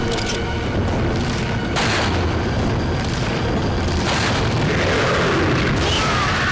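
Booming magnum shots in Resident Evil 4 on the GameCube, heavy blasts and rumbling impacts under a dense, loud wash of game noise throughout.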